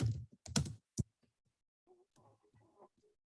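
Short bursts of keystrokes on a computer keyboard while a brief prompt is typed, a few quick clusters of clicks up close. Faint talk follows.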